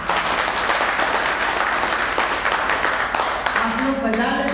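A church or sermon audience claps loudly and continuously in a dense, steady patter, with voices rising over the clapping toward the end.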